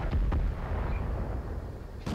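World of Tanks tank cannon fire: a heavy, close boom opens, followed by a quick second thump and a rumbling tail, then another blast starting at the end; no talking.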